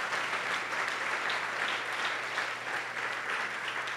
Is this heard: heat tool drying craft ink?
no